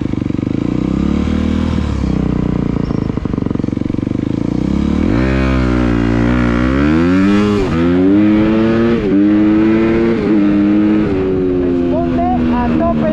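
A Honda CRF 250 dirt bike engine revs hard and climbs through successive gears, its pitch rising and dropping with each shift, loud and close.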